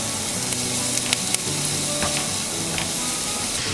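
Curry leaves and garlic crackle and sizzle in hot olive oil, a steady dense frying hiss with a few sharp pops and spits, close and alone without talk.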